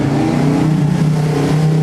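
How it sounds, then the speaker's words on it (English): At an autocross event, a car engine drones loud and close, its pitch rising and dipping as the driver goes on and off the throttle with engine braking, with no voices over it. "She's on and off the gas using that engine braking."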